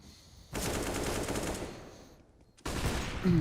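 Gunfire from a Counter-Strike match on the Mirage map in a FaZe vs BIG group game: a dense burst of rapid shots, a brief lull, then renewed firing close and loud.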